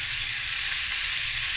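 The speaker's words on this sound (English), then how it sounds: "now I'm going to add the rest of the ingredients. My onion, my jalapenos, my garlic" Onion, jalapeños and garlic fry with sausage in a hot pan for sausage fried rice, giving a steady, close, continuous sizzle with no voices.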